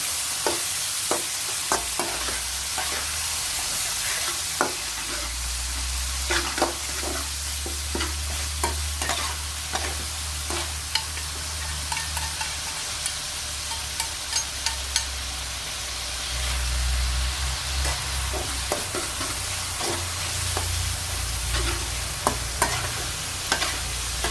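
Beef stir-frying in a wok with oyster sauce, a steady sizzle broken by frequent scraping and clinking of the spatula against the pan, close and continuous throughout with no talk.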